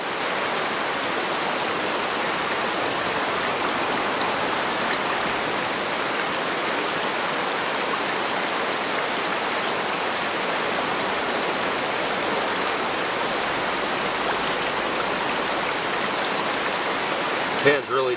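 Water sloshing and swirling in a Placertools gold pan tipped forward in shallow water, a steady, close rushing wash that runs unbroken through the clip without pause.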